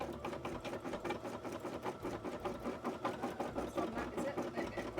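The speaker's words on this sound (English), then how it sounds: "now I'm just letting it do its initial stitching" A sewing machine running steadily through its first stitches on a cosplay piece, a fast, even mechanical chugging that holds close and constant throughout.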